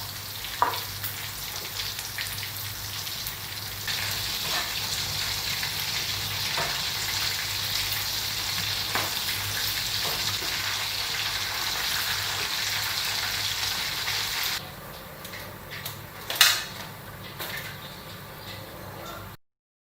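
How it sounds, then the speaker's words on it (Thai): Batter-coated pork strips deep-fry in oil over medium-low heat, giving a steady close sizzle with occasional ticks and clinks; the frying softens near the end and a brief knock follows. "ใช้ไฟกลางค่อนข้างอ่อนนะคะ ในการทอด"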